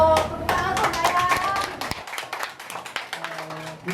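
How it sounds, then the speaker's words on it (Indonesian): Schoolchildren clap their hands together at a free school beneath a Jakarta toll road, producing a dense run of sharp, overlapping claps that thin out toward the end, with voices talking throughout. "tepuk tangan dong, sayang"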